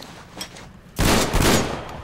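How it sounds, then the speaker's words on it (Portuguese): Gunfire in a video game, a sudden loud burst of rapid shots after a second of quieter clatter, continuing densely to the end with no talk. "Ah, eu tô atirando sem querer."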